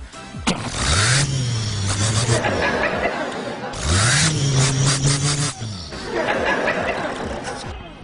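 A voice imitates a Ford Transit van engine revving, in three drawn-out vroom bursts with short pauses between them. Laughter is mixed in.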